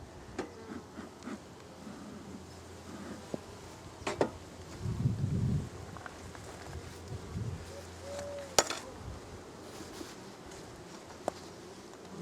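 Honeybees buzzing around an opened nuc hive, a faint steady hum with a swelling low drone midway as bees fly close, scattered with a few sharp clicks and handling knocks.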